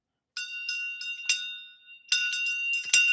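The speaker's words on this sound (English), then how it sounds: "the shang bell" A Tibetan shang bell rings in a series of bright metallic strikes, each leaving a sustained clear tone, first a few spaced hits, then a denser cluster, alone in silence.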